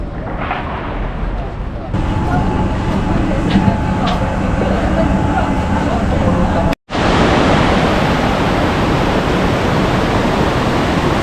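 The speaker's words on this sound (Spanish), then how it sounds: "Vean chicos, acá corre un lindo río." A river flowing through central Oslo, Norway, gives a steady broadband rush of moving water that runs loud and continuous throughout, briefly cutting out for a moment near the end before resuming.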